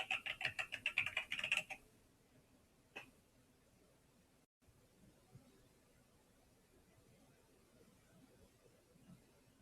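A password typed on a computer keyboard at a Linux login screen: a quick, close burst of clicking keystrokes lasting under two seconds, then near silence.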